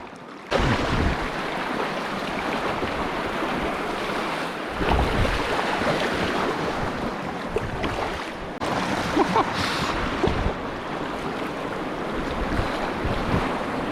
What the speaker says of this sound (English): Today Baden and I are going for a kayak down the river.